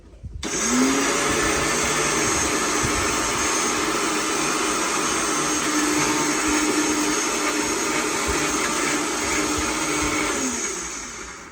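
An electric blender whirs steadily through garlic and other ingredients for a chili paste, a loud continuous motor drone that starts abruptly, holds even for about ten seconds, then winds down.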